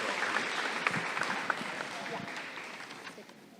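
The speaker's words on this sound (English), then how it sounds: "Please give a round of applause for Mr." An audience at a middle school eighth-grade awards ceremony claps, a dense wash of applause that is fairly faint and gradually fades over a few seconds.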